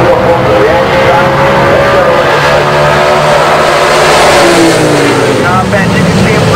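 Drag race cars launch off the starting line in a shakedown E-Town class, engines roaring loud and sustained over a steady crowd-level wash, with a commentator's voice running over the noise.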